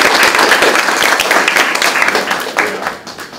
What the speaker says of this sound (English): So I applaud you